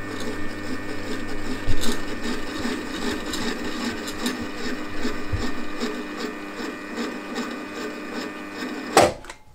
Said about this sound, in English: So here I'm just milling the ears to a 1/4 inch in depth.